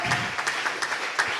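Church congregation clapping together, a brief burst of fairly loud, rhythmic applause with sharp claps coming in quick repeated waves.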